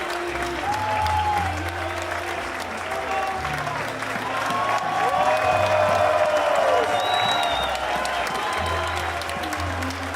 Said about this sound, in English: I think that Randy, I think wants to applaud the effort of Janela